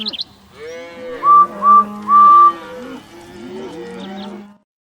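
Storybook sound effect of cows grazing in a field, several drawn-out lowing moos overlapping, with a few bright whistle-like tones in the middle, fairly loud and close, ending abruptly.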